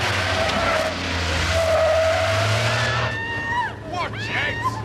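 A getaway van pulling away from a robbery scene on a city road, with engine roar and squealing tyres, loud and close, the tyre screech rising and sliding toward the end.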